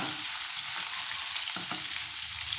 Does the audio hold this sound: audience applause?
no